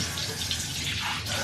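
Tap water runs continuously as makeup is washed off a face by hand, a brief, close splashing stream with no speech over it.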